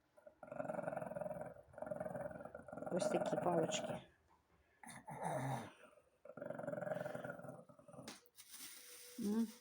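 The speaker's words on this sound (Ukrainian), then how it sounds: "Тільки зараз гарчить, не знаю чого." A pet dog growls in long, rumbling stretches beside its treats and chew sticks, close and fairly loud, broken by short pauses, with a person talking over it at times.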